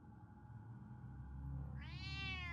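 A cat meows in the video game Batman: The Telltale Series, one drawn-out rising meow near the end over a steady low background hum, fairly faint.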